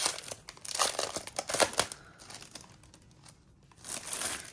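Plastic wrapping on planner paper packs crinkles and rustles up close as it is pulled open, in loud uneven bursts that fade briefly before picking up again.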